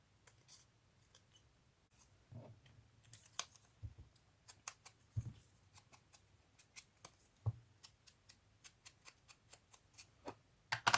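Scissors snip through paper while cutting heart shapes for a paper bag journal topper, a quiet run of short, crisp clicks and snips spaced unevenly, close by with no talking.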